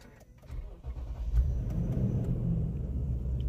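A 2017 Toyota Land Cruiser V8 ZX with a 4.6-litre petrol engine cranks and fires up, settling into a deep, steady idle rumble close by.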